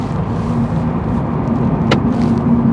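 A Toyota GR86 cruises along a road ahead of a tight corner, its engine a steady low drone under broad road and wind noise, with one sharp brief click partway through.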